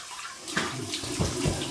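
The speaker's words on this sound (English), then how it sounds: "Here's my warm water rinse." Warm water from a bathroom tap splashes and gurgles into a sink for a post-shave rinse, close and uneven, with bursts of splashing as hands or a face cloth break the stream.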